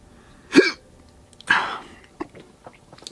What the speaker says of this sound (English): Hiccups. No. Spicy hiccups are the worst.